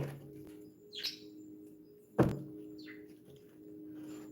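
Faint birds chirp in short scattered calls outdoors, interrupted partway by a single dull thunk, over a low steady hum.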